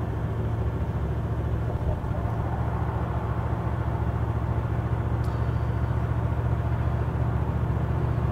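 A remapped 4WD pulls away under acceleration, its engine a steady, fairly quiet drone heard from inside the cabin with a continuous low rumble and no clear rev changes.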